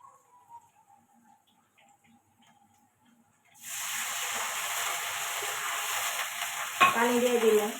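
After a few quiet seconds with faint background sounds, onions hit hot oil in a wok with a sudden loud sizzle that stays steady and close, ending with a sharper scraping stir.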